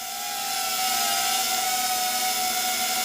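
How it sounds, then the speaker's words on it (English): Small drone hovering nearby in light rain in the Pacific Northwest, a steady high-pitched whine with a constant tonal buzz and no talking. "Skyla's drone, technically."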